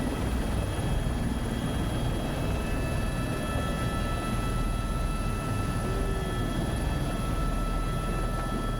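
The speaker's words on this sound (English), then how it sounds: "This was my first time I've ever been on a helicopter" Loud, constant drone of a helicopter over Oahu heard from inside the cabin, a steady engine roar with a high whine over the rotor thrum.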